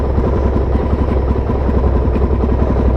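A carbureted 2019 Suzuki DRZ400 SM single-cylinder motorcycle idling while warming up, a close, loud, steady rapid thumping with slight clatter and no pauses.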